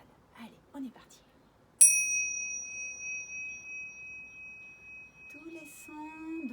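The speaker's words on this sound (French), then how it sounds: "vous êtes prêts pour écouter le son de la cloche avec vos camarades" A meditation bell in a primary school classroom gives one clear strike that rings on in a long, slowly fading tone, with soft children's voices heard briefly before and after.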